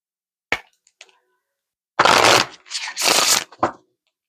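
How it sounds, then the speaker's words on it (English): Cards being shuffled near the mic: a couple of light taps, then two bursts of fluttering riffles and a final soft snap. "One more shuffle."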